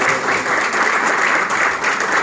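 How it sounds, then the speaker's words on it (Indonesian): Dense, steady applause from a church audience at a Christmas and New Year gathering, a continuous wash of many hands clapping together at an even loudness for a couple of seconds with no voices over it. "Kalau belum terlambat, tepuk tangan"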